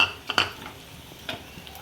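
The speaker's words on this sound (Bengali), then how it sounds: "এইভাবে নেড়ে চেড়ে নেবো।" Fried egg with capsicum, onion, cabbage and carrot being stirred in a pan for shop-style chowmein; a couple of sharp utensil clinks against the pan come early, then quieter scraping over a faint background.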